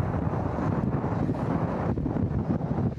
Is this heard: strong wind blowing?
yes